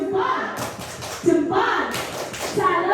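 A group performs the 'tepuk salut' clap pattern, bursts of rhythmic clapping in short phrases interleaved with voices chanting and speaking, including a voice, all close and lively.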